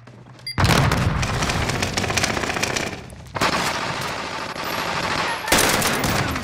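Sustained bursts of automatic gunfire in a video game firefight, loud and close, rattling continuously in long volleys broken by brief pauses, with no talk over it.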